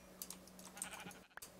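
In Minecraft, a sheep gives a short, faint bleat in the plains, mixed with light clicking taps across the brief moment.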